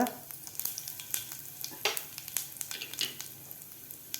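Cumin seeds crackle and sizzle in hot oil in a pan over a medium flame while cooking a spicy Maharashtrian cluster-bean thecha; a steady hiss is broken by sharp little pops spread across the moment, with no talking.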